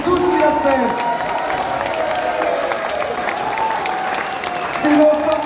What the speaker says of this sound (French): on peut lui donner un tonnerre d'applaudissements